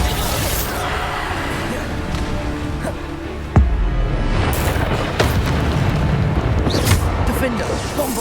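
A Bombarda spell explosion in Hogwarts Legacy bursts as a single sharp boom near 3.5 seconds, set against dense ongoing game combat noise and other impacts.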